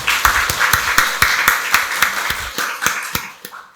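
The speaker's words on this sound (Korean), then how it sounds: "박수로 하나님께 영광 돌리겠습니다" A church congregation at Sunday worship claps together in a steady, rhythmic beat, loud and close, about a dozen even claps slowing and fading at the end.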